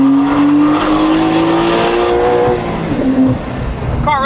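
Loud Porsche 992 Turbo fitted with a titanium exhaust and free-flow bypass, heard from inside with the windows down as it pulls hard through rising gears, its engine note climbing steadily, then briefly easing before revving again near buildings.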